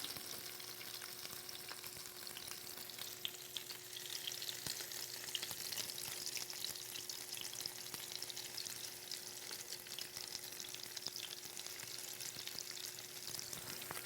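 Egg-coated food sears in a hot skillet, a steady, even sizzle of frying that holds at a constant low level throughout with no talking.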